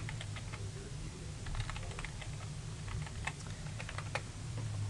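Fingers tap out a Stata command on a computer keyboard, producing quick, light, irregular key clicks close by over a low steady hum, with no talking.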